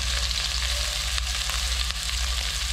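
Ginger-garlic paste fries in hot oil in a pan, a dense, even sizzle heard up close with a couple of faint stirring knocks.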